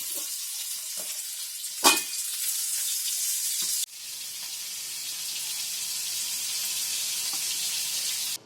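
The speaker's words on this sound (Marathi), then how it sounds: "आता मी त्याचा गॅस बंद करते आणि मच्छी फ्राय करते." Mackerel fish frying in a pan gives a steady, soft sizzle, broken by a sharp clatter and a brief clunk partway through, with no talking.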